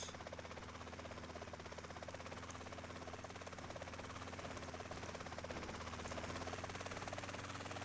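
A helicopter flies in the video game GTA San Andreas Multiplayer, its rotor and engine making a steady, loud droning hum that holds throughout with no break and no talking.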